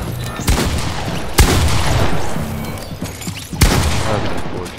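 Video game gunfire, loud sharp shots and bursts in three main clusters over a dense, noisy battle background.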